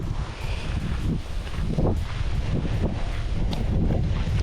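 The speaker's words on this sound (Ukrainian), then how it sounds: "Дує таким осіннім" Cool autumn wind blows steadily outdoors on a mountain property where paving stones are being laid, a continuous low rumble of gusts buffeting the microphone with faint rustling throughout.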